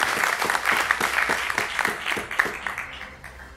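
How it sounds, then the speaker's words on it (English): Conference audience claps for the high table, a quick burst of applause with distinct close claps at first that thins and fades toward the end. "I want a little clap for the high table first"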